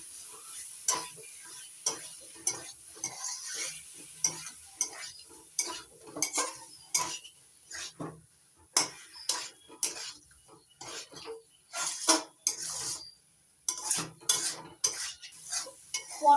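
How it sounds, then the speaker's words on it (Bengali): A utensil stirs fried pointed gourd with spices in a pan, making repeated scraping clinks against the metal at an irregular rhythm, close and fairly quiet with no talk. "পটল দিয়ে আবারও মশলার সঙ্গে নাড়াচাড়া করে একটু কষিয়ে নেব।"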